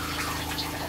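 Hot water running in an RV camper shower, a loud, even hiss of spray that continues unbroken for under a second, close by and without speech.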